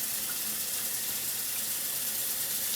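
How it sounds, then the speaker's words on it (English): Water pours steadily into the tank of a Sage Barista Pro SES878 coffee machine, a continuous close splashing flow with no talk. "Put some water in there."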